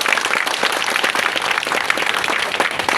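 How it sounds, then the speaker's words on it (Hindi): Loud crowd applause at an outdoor gathering of a youth forum in a tea garden, dense sustained clapping from many hands for a few seconds, close and alone. "हम चाहेंगे यहाँ जोरदार तालियां बजनी चाहिए"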